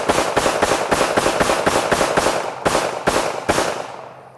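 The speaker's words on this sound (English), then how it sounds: "we're going to fire up the LCP2 and the new LCP Max, and I'm just going to kind of empty them up close like this" Two Ruger compact pistols, an LCP2 and an LCP Max, fired in rapid succession up close: about a dozen loud, sharp gunshots in a fast, slightly uneven rhythm with a brief pause near the end, no talking.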